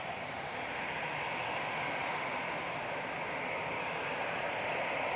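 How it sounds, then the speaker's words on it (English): EasyJet Airbus A319 departing Manchester Airport for Palma: a faint, distant, even jet rush that swells slightly toward the end, with no talk. "So it's the 319 that's going off to Palma."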